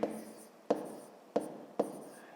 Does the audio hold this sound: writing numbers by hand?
yes